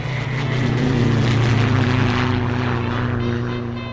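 Propeller airplane flying steadily overhead, a loud droning engine hum that swells and slowly fades over a few seconds, with no voices.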